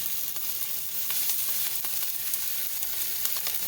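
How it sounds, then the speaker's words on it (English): Pork chops sear in a little oil in a pan, giving a continuous, even sizzle and hiss that holds steady throughout. "And I'm just going to sear these for just a few minutes on each"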